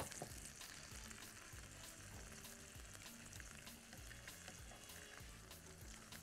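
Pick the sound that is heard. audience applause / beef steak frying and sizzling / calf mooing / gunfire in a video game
beef steak frying and sizzling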